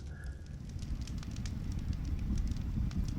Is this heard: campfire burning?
yes